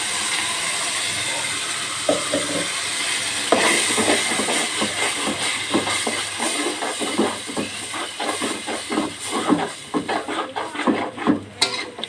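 Ginger, garlic, onion paste and chili paste hit a hot pan with a sharp, steady sizzle and hiss, and a spoon stirs and scrapes against the pan in repeated knocks. No talking is heard.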